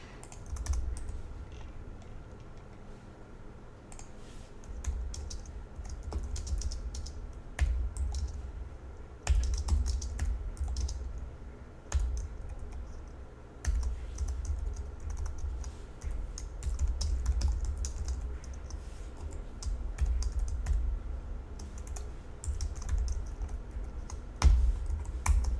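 Typing code on a computer keyboard, steady close clatter of keystrokes with irregular bursts and brief pauses, continuing for about twenty-five seconds with no talking.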